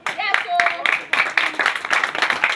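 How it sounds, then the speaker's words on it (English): Applause at a Christmas party, a brief burst of group clapping mixed with cheering voices, close and fairly loud, running through the whole moment. "a round of applause for her now"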